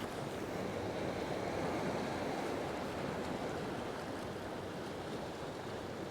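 Ocean waves breaking on a shore at sunset, a continuous loud wash of surf with wind noise buffeting the microphone and no voices.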